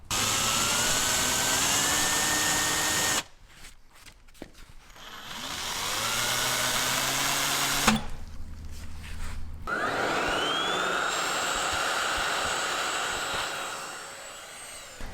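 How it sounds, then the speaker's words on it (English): A loud power drill whines at high speed, grinding a hole into the metal cap of a BMW ZF 5-speed manual transmission in long bursts, its pitch rising and falling, with two brief pauses between runs. "We're going to drill a hole right in the middle of this cap."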